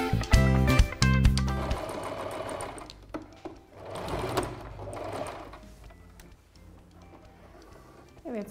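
Singer sewing machine stitching a ruffle on a garment, with a fast rattling burst of needle strokes at the start, then quieter intermittent running and handling noises at close range.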